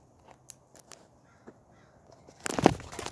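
Birds cawing outdoors, a few faint scattered calls and clicks early on, then a loud, harsh burst of cawing close by near the end.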